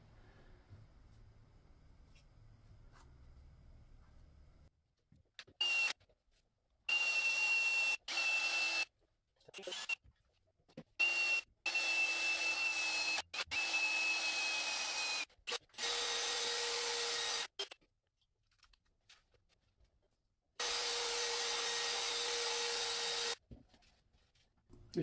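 Dry sanding on a glass surface to remove scratches comes in repeated bursts of steady abrasive whirring, stopping and starting with short silent gaps between passes, close and clear.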